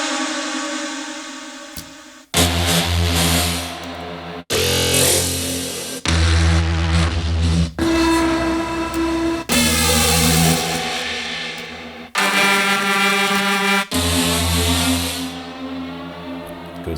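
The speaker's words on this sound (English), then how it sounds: "These are horn sounds, actually quite popular" Horn samples from the Crazy Horns sample pack, with a gritty, not-so-clean character and heavy reverb, play as a series of loud sustained brass blasts and chords in short sections, each cutting off sharply before the next.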